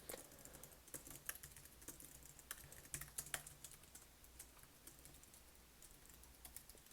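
Fingers type on a computer keyboard in a quiet, continuous patter of light key clicks with small irregular bursts, close up and with no voices.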